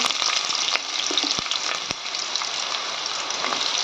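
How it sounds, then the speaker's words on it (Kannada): Onion and green chilies frying in a pan, a steady dense sizzle with occasional crackles and light stirring clicks, close and continuous with no talking. "ಈರುಳ್ಳಿ ನೋಡಿ ಸ್ವಲ್ಪ ಇಟ್ಟೆ ಮತ್ತು ಫ್ರೈ ಮಾಡೋಕ್ಕೆ ಬೇಕಾದ್ರೆ ಕಾಯಿ ಮೆಣಸು ಹಾಕಿಕೊಂಡೆ"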